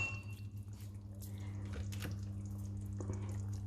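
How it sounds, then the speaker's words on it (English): Water is poured into a pot of lamb curry, making a soft, steady trickling splash close by over a low background hum, with no voices. "And then I'm going to pour a little bit of water"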